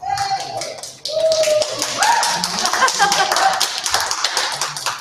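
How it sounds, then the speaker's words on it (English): Hand clapping from an audience at a spring kickoff church gathering in San Pedro, a dense patter of claps running for several seconds with voices talking over it. "That hand clap is for everyone"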